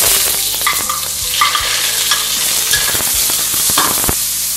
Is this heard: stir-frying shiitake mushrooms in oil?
yes